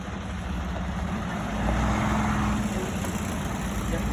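Trucks idling on a road at an outdoor ribbon cutting ceremony, a steady low engine rumble that holds evenly throughout with a slight swell midway, heard alone without speech.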